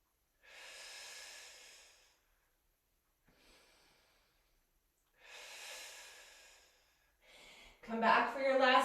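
Heavy, drawn-out breaths during a yoga strength flow with weights, two long exhales separated by quieter gaps, ending in shorter, louder, strained breathing sounds close to the mic.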